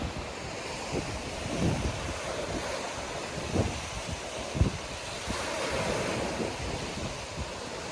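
Sea waves wash and crash onto Jomtien beach, a steady broad roar with several surges breaking through, blown about by wind buffeting the microphone, with no voices.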